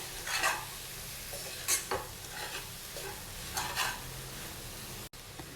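Egg is stirred and mixed in a pan for an egg fry, heard as quiet intermittent scraping strokes of a spoon over a faint low sizzle.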